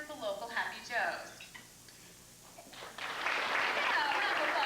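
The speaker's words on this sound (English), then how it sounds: "round of applause for the local Happy Joe's" Talk gives way to a burst of clapping and cheering from a banquet crowd that fills the second half, loud and steady.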